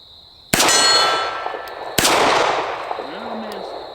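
Two sharp shots from a Charter Arms Bulldog DAO big-bore revolver, about a second and a half apart, each followed by the loud, long ringing clang of a steel target at an outdoor range.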